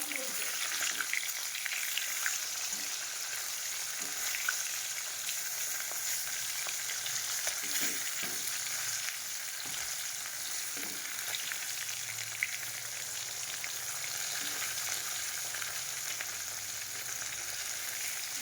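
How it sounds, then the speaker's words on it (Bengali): Fish pieces fry in oil in a pan for a long stretch, giving a steady close sizzle with occasional crackles and faint stirring. "এই দেখো মাছটা একটা একটা পিস ভাজা হয়ে গেছে"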